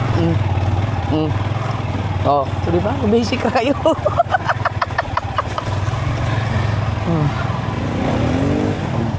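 Motorcycle engine runs steadily at close range throughout, a constant low hum beneath several people talking and calling out.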